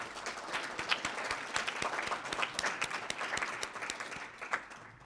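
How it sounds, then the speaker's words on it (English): A county-event audience at a 2021 gathering applauds the county's diverse executive team appointments, a moderately loud mix of scattered individual claps and general clapping lasting several seconds. "This deserves a round of applause."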